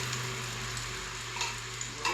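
Banana fritters dipped in batter sizzle in hot oil on a gas stove, a steady close crackling and bubbling with no talk.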